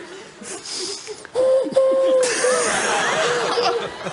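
A voice whistles or hoots a steady, repeated low two-note call in imitation of a cuckoo, close up, with some breathy laughter around it.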